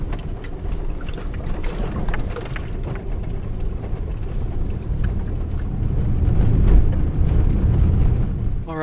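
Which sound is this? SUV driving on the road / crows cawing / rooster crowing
SUV driving on the road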